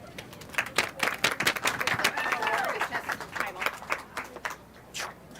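Spectators clapping at a rabbit showmanship contest at the North Idaho State Fair, a steady ripple of hand claps for several seconds with a few voices talking over it, fading near the end.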